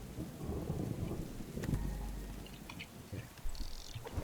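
Rain and thunder in the survival game Subsistence: steady rain hisses throughout while a deep rolling thunder rumble swells in the middle, with a few brief chirps near the end and no talk.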